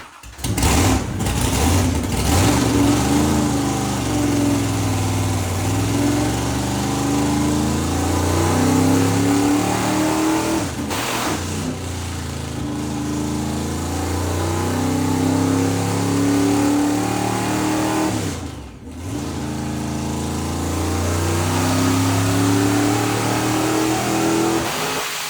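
A Chevy C10 V8 revs repeatedly on a dyno, rising and falling in long loud sweeps close by, with a brief dip before the revs climb again.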